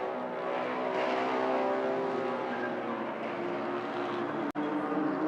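Toyota GR86 touring car at speed on track during a Malaysian Touring Car Championship race, a sustained engine drone that is steady and somewhat distant, holding level for several seconds before a sharp brief click near the end.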